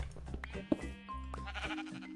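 Minecraft sheep give a short bleat near the start, laid over game music and block-building clicks and tones that carry on through the rest of the moment.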